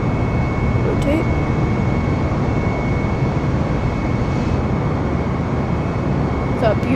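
An Airbus A320 jet airliner on its takeoff roll, a steady loud engine roar holding constant throughout with a thin whine on top.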